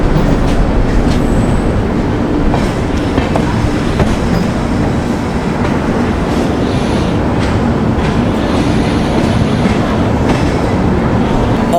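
Karnataka Sampark Kranti Express train running, first-class AC coach: a loud, continuous rumble of wheels on rails with faint rhythmic clatter and occasional squeal, steady throughout with no talk.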